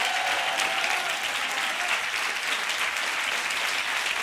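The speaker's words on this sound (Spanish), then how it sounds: "Dale un aplauso a Jesús." Church congregation applauding together, a dense, steady wash of clapping hands filling the room at even loudness throughout, with no voices rising above it.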